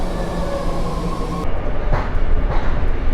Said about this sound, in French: comme vous pouvez voir, là, je suis dans le métro